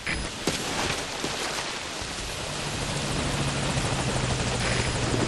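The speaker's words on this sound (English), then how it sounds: "Roger that chopper request. It's headed your way now." A support helicopter in Metal Gear Solid V: Ground Zeroes arrives, its rotor wash a loud, dense broadband roar that steadily builds and dominates, with rain-like hiss and a faint low rotor hum beneath.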